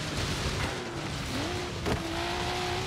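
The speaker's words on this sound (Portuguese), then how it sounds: "o barulho desse carro tá maravilhoso" A car engine in the racing game Forza Horizon 3 roars steadily, its pitch climbing through a rev and then holding high in a loud, continuous drone with a brief tire-like squeal.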